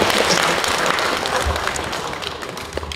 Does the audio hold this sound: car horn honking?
no